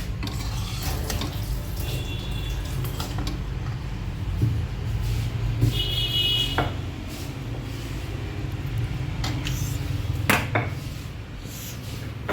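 Fried food is served onto a plate with metal utensils at home at breakfast, giving intermittent clinks, scrapes and taps of utensils against dishes over a low steady background hum.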